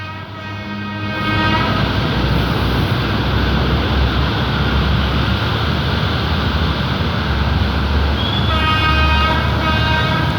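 Railway maintenance vehicles and a ballast tamper rumble heavily along the track in the rain near the Rama 4 Road level crossing, a steady low roar of wheels joined by a horn-like tone, loud and continuous after a quieter start.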